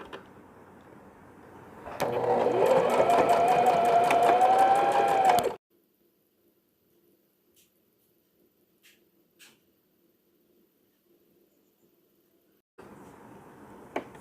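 A sewing machine stitches single piping onto a cotton knit newborn ear-covering cap in one rapid, whirring run of about three and a half seconds. Quiet follows, then faint handling noise.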